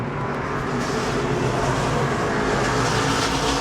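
ARCA Menards race cars roar side by side on the final lap at Elko, a loud, steady blend of close engine drone and high-pitched exhaust with no pauses.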